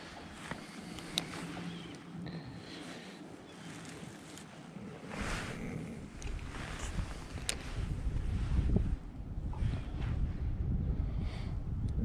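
Wind blows over open water around a fishing boat in February, a steady rushing hiss with buffeting gusts on the microphone that build toward the end, with no voices.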